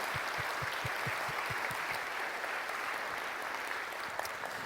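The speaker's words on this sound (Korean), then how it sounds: "우리 박수로 하나님 앞에 영광 올려드렸으면 좋겠습니다" A large congregation claps at a prayer meeting, soft and distant, with a faint rhythmic low thumping early on and a steady wash of hands after.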